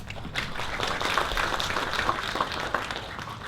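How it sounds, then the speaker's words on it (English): A conference audience applauds the organisers of an international language and literature conference, a steady even wash of clapping filling the room for several seconds without speech. "A round of applause to the organisers."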